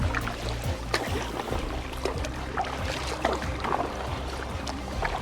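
Kayak paddle strokes dipping and splashing on the Rio Guadiana against a strong headwind, with steady water sloshing, wind rumble and intermittent close splashes from the blade, no voices.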